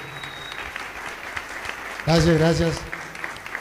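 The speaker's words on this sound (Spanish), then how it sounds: "denle un fuerte aplauso a Dios" Congregation applause in a church service, a steady wash of clapping that swells as a voice briefly speaks over it.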